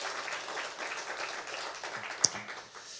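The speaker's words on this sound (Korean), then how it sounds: "우리 하나님께 영광의 박수 올려드리겠습니다." A church congregation at a Korean Sunday worship service applauds, producing a soft, diffuse clapping wash heard from some distance, with one sharper tap near the end.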